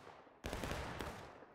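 Musket fire from a large War of Rights battle, a Civil War-era game, erupts as a sudden loud volley after a quieter lull, with a second crack following shortly after.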